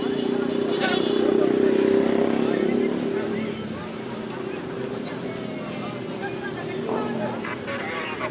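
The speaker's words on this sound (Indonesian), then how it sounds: "Anak kecil yang bawa motor." A motorcycle ridden by a small child on a night street rumbles past close by, its engine droning loudly for a few seconds before easing into a steadier hum, with people talking over it.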